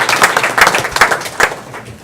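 An audience at a public hearing breaks into applause, with sharp, close claps rising and falling over a couple of seconds.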